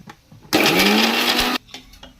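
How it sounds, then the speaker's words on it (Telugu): A mixer grinder grinds coriander powder spices in one loud, steady whirring burst of about a second, starting and stopping abruptly, close up. "మిక్సీ పట్టేసి"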